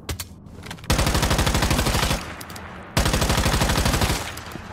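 Rapid automatic gunfire from a weapon in the video game Once Human, loud and close, coming in two long sustained bursts separated by a brief lull.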